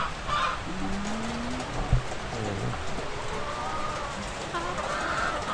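Chickens cluck and murmur softly while eating, amid a constant wash of noisy background hiss, with scattered short calls throughout.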